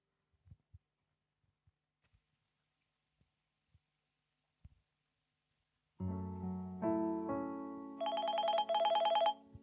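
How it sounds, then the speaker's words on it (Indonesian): A telephone rings indoors after a few soft thumps, a loud electronic ringing tone with steady repeating pulses that grows brighter and more insistent toward the end. "Itu ada telepon?"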